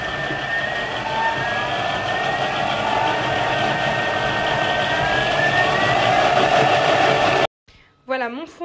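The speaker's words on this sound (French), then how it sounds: "je vais venir mélanger le tout 1 minute, vitesse 4. Et je vais progressivement augmenter la vitesse jusqu'à la vitesse 7" Thermomix blending vegetable stock at speed 4 then climbing to 7, a loud steady motor roar with rising whine that runs for over seven seconds before cutting off, followed by a brief voice.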